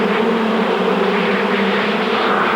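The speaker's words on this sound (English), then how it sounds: "With Mark's body now filled with bees, it's time to let them gather on his face" A dense swarm of bees buzzes loudly and continuously while covering a man's body during a world record attempt, a close, steady droning hum with no pauses and no talking.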